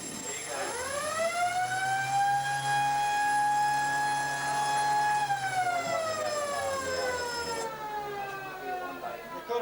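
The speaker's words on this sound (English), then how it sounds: "Quarter-time siren goes to end the first quarter" A long, loud siren sounds at a country football league grand final to end the first quarter, holding a steady wail for several seconds before sliding down in pitch, over crowd noise, with no talk.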